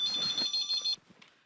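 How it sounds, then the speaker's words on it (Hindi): A telephone rings in a shop with a bright electronic ringtone: about a second of pulsing high-pitched warbling tones, then it cuts off and leaves only faint room noise. "लगता है उन्हीं का फोन है।"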